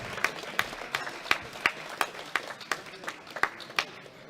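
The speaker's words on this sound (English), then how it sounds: "Give him a big round of applause." Scattered clapping at a powerlifting championship, with distinct, evenly spaced claps standing out over a soft crowd murmur, fairly quiet and thin rather than a full ovation.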